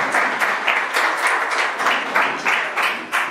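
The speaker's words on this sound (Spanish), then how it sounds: "¿Qué tal si le damos un aplauso de bienvenida?" A church congregation applauds in welcome, a steady, dense wash of many hands clapping together. It stays fairly loud and even across a few seconds, with no talk over it.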